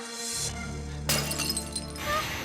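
A cat figurine shattering, with a sharp breaking crash followed by scattered glassy fragments ringing, heard over a sustained background music bed with no speech.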